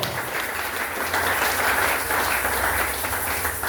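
A church congregation in Lubumbashi applauds and cheers during a Sunday service, steady dense clapping with crowd noise filling the whole stretch without a break.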